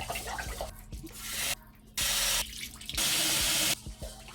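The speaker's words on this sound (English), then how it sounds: "We go to the sink and rinse the rice about 4 times till the water gets pretty clear" A kitchen sink tap runs in bursts as rice is rinsed in a big pot, with loud gushing streams switching on and off between quieter sloshing, rubbing and clinking of grains and pot.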